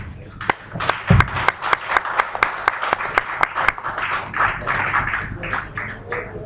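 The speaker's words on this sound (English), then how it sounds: "Please, let's give him another round of applause." Audience applause at a live-streamed gathering, a steady burst of many hands clapping with sharp individual claps standing out, loud and close, lasting several seconds without talk.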